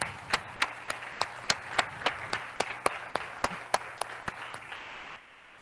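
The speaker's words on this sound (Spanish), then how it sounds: "todos ustedes se merecen un gran aplauso" Applause for teachers and students at a university introductory course, a small group or single person clapping in an even rhythmic series of distinct claps, fairly faint, stopping abruptly near the end.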